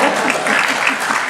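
Applause from a mushaira audience at a Nida Fazli Urdu poetry recital in Chandigarh, a brief dense burst of many hands clapping, loud and close.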